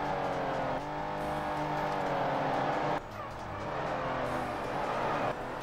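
Racing cars speed along a track in the Ford Racing video game, a continuous droning engine roar that swells and fades as cars pass in the distance, with a slight tonal shift midway.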